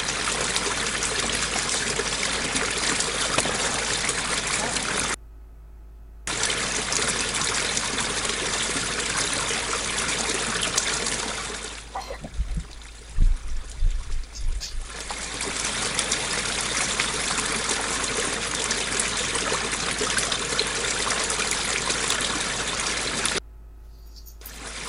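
Spring-fed water trickles and streams steadily, a dense continuous wash close by that cuts out briefly twice, with a short muffled stretch of low thumps in the middle.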